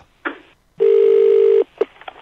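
A telephone rings once with a steady electronic tone that lasts under a second, loud and close, with short clicks and bits of sound before and after it.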